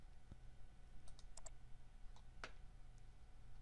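A few soft mouse clicks while working in Revit software, faint and sparse, isolated taps over a quiet background hum.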